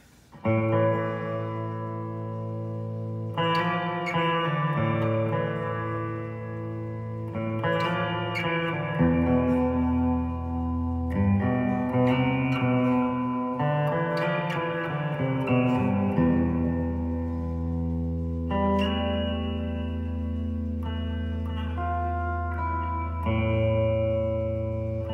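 An ENO reverb guitar pedal washes electric guitar notes and chords in a lush, sustained reverb tail, with no talking as the tones ring and blend continuously.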